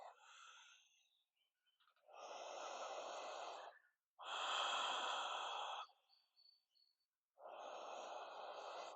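Slow, deep breaths during a yoga stretch, close and soft: a long airy inhale, a fuller exhale, then another breath beginning, each separated by quiet pauses.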